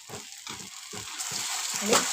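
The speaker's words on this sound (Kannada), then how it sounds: "ಚೆನ್ನಾಗಿ ಹಸಿ ವಾಸನೆ ಹೋಗೋವರೆಗೂ ಇದು ಫ್ರೈ ಮಾಡ್ಕೋಬೇಕು" Potato masala frying in oil in a pan, a soft sizzle under about five rhythmic scraping stirs of a spoon, close and fairly quiet.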